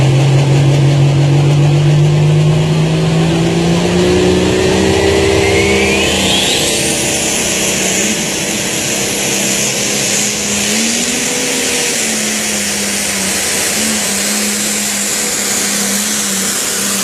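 A truck and tractor pulling engine roars loud and steady at close range, its pitch sliding upward early on and then settling into a sustained, wavering drone.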